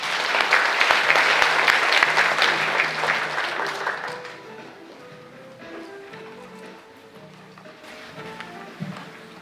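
Hearty applause fills the hall at the opening ceremony of the 2019 Saemaul International Forum for about four seconds. It then fades as soft, sustained music takes over.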